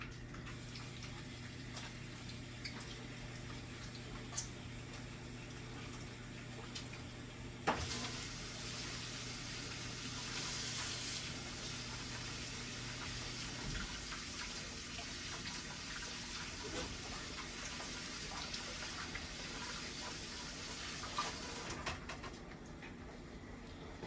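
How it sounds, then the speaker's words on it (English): A kitchen tap runs steadily while hands are washed beneath it during chicken, beans and potato meal prep, a faint continuous water flow with a few small clicks and a brief louder splash partway through, no talking. "I'm gonna wash my hands"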